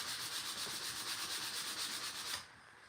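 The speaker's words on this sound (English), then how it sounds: "you just sand and wait." Steady rhythmic hand sanding on a wooden phone stand, close and even for a couple of seconds before it stops abruptly.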